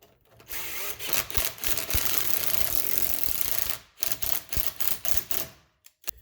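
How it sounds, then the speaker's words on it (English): A power tool whirs in a sustained burst, then stutters in short rapid pulses before cutting off, close by with no talking. "Power tools."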